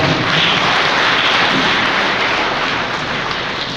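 A large audience at a virtual foundation-stone ceremony for a nursing college in Nagaur gives loud, dense, continuous applause that fills the whole stretch without pause, tapering only slightly at the end.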